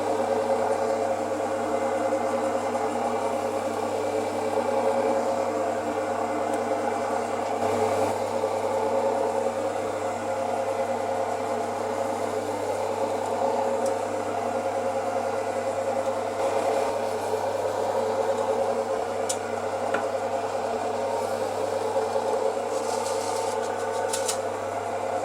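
A meat slicer runs steadily, its motor giving a constant mechanical whir as it cuts slices of traditional cured collar bacon, close and continuous with no talking.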